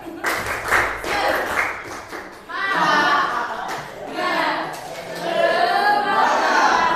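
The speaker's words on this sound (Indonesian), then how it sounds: "Silakan mungkin bisa tepuk semangat dulu supaya lebih semangat lagi." An Indonesian classroom of eleventh-grade students performs a rhythmic clapping chant, bursts of claps alternating with lively youthful voices, then the noise swells into loud chatter and cheering.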